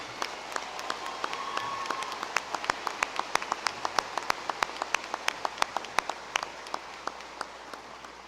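Audience at a college commencement applauding Bachelor of Music graduates: sustained applause from a large hall crowd, with a few distinct nearby claps cutting sharply through the steady background patter.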